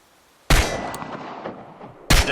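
Two sharp, loud gunshots at shooting practice in the Chernobylite video game, each cracking out alone with a long decaying ring between them.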